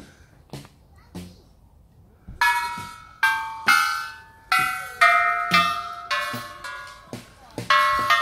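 Chime bars struck outdoors in a country park in Nottinghamshire, England, ring out in a quick irregular run of about nine bright metallic tones, each one sustaining and decaying over the next. A couple of faint taps come first.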